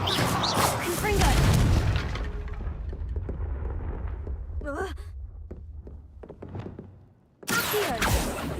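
Confringo fire spell blasts in Hogwarts Legacy: a loud whooshing burst up front, quieter rumbles and thuds in the middle, then another abrupt, forceful blast at the end.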